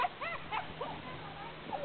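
A small dog gives several short, high yips and whimpers in quick succession, fairly close and faint, with thin whining tones between the yelps and a person's voice briefly in the mix.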